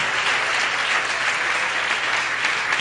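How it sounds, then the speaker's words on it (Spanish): A Pentecostal church congregation in Colombia claps together in praise, a thick, continuous wash of applause from a large crowd, steady and full from start to finish. "¿Cuántos aplauden a Dios por el amor de Jesucristo con la Iglesia Pentecostal Unida de Colombia?"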